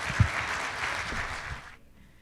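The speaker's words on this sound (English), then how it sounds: "Let's give all our Rotarians a round of applause" Brief round of applause from attendees at a Rotary club meeting, a quick patter of clapping that fades out after under two seconds, with a faint voice near the start.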